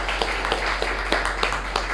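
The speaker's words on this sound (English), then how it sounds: "Let's give a bigger round of applause to" A round of applause from the audience at a club meeting, many hands clapping in a steady, fairly close patter with a few louder individual claps standing out, lasting throughout.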